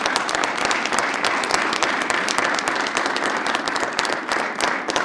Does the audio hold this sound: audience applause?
yes